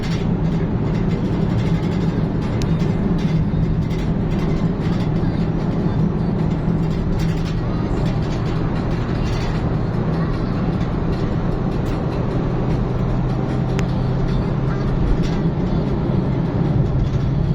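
Traffic rolls along an expressway near Kajang, Malaysia, a continuous loud rumbling road drone with passing vehicle noise, steady from start to end.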